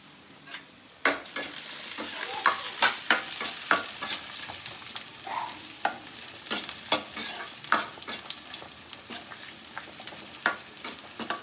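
Food cooks in a large pot on a home stove while meals are made for guests. Close, repeated scraping stir strokes and a steady sizzle run throughout, with no talking.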